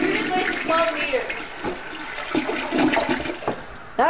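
A household toilet flushes in one continuous rushing wash of water that runs steadily for several seconds, with bits of children's voices over it.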